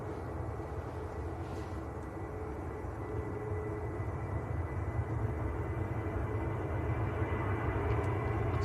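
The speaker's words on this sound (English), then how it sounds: "Oh yeah, TUI Dreamliner coming out. Jet 2 on the roll as well." Jet2 and TUI Dreamliner airliners taxiing and rolling for takeoff at Manchester Airport, a steady distant broadband engine rumble and roar that holds constant throughout with no voices.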